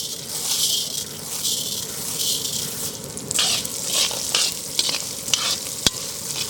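Urad dal and chana dal sizzle steadily in hot oil while being stirred, a close, bright frying hiss with occasional scraping clicks and no talking.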